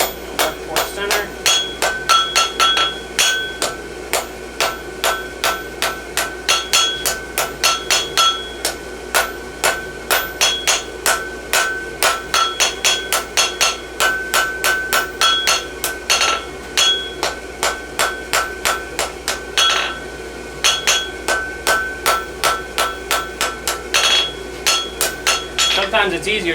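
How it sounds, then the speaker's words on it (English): Steady hammer blows ring out on an anvil while heels are forged on a horseshoe from a 12-inch piece of concave bar, a dense, loud, rapid run of sharp metallic strikes with bright ringing. "now I'm just kind of going back and forth with my hammer blows"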